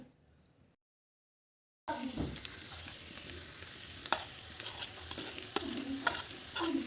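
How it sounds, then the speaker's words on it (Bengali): After a short near-silent pause, mashed potatoes with spices fry loudly in a hot pan, with continuous sizzling under frequent scraping stirs and occasional sharper clacks of the spatula, close up and without speech. "এখন আলুর সাথে মশলাগুলো খুব ভালোভাবে মিশিয়ে নিতে হবে আর খুব সুন্দর করে কষে নিতে হবে"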